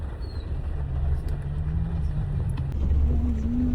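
Road traffic near a school on a wet, rainy day makes a low engine rumble from passing cars and buses. A rising engine tone comes through near the end.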